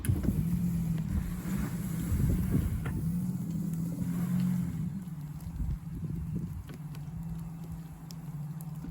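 An electric Audi Q4 e-tron with rear-wheel drive and summer tyres reverses in snow with traction control on, a steady motor whine and wheel-spin hum holding for several seconds and then easing off.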